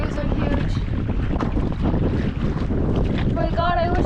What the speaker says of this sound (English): Oh my god, these waves are huge.